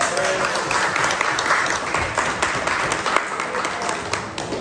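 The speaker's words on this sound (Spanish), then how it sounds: "Un fuerte aplauso para ustedes." An audience at a private family comedy show claps together, a fairly close, steady round of applause with scattered louder claps and faint voices mixed in underneath.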